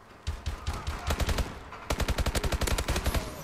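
Video game gunfire rattles off in fast automatic bursts, a short volley followed by a longer steady stream of loud, evenly spaced shots.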